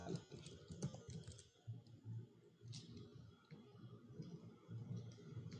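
Quiet, fairly distant typing on a computer keyboard, an irregular stream of soft key clicks continuing throughout with no talk.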